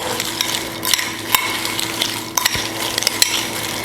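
Hot roasted chickpeas being stirred into a seasoning mixture, giving a steady rustle under light scraping and several sharp clinks of a utensil against a bowl.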